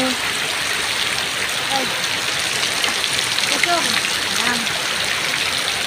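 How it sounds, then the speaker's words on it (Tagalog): Heavy rain pours down in a steady, dense hiss with no letup, close and loud, while a person speaks briefly over it. "Yan o, malakas pang ulan."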